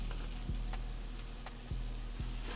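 Vegan ground-beef substitute made from pecans, seasoned with vegan Worcestershire sauce and cumin, is stirred in a pan: a soft continuous sizzle with a few muted thumps of the utensil, no talking.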